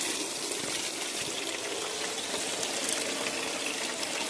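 Steady rushing water pours through a highbanker sluice as gravel is washed for flood gold, a constant broadband gush with no pauses and no talk.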